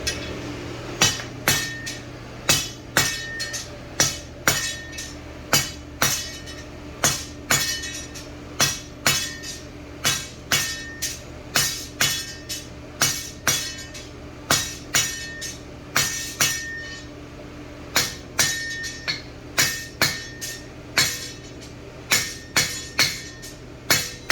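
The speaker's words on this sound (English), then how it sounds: "the trick to getting these nice and even is to have a consistent pattern hammer blow" A hammer strikes a 1/2-inch square solid steel bar, heated in an induction forge, in a steady, even rhythm, dozens of ringing clanks close up, with a faint hum underneath.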